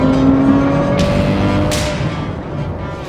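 Ferrari 812 accelerating hard while breaking traction through second, third and fourth gear on a chilly day, a loud close engine roar with quick upshift breaks, rising and holding before easing slightly.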